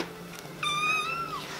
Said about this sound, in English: watch out for the cat,